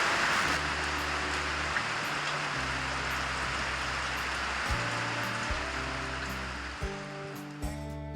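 Heavy monsoon rain pours steadily, a dense hiss of falling water with overflowing poly tanks, while low tonal droning sounds come and go underneath.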